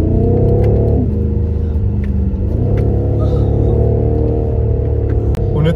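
BMW M8 Competition Gran Coupe with a 625 hp engine, accelerating on a rainy mountain road, gives a loud, steady engine rumble with rising revs and gear changes, heard from inside the car.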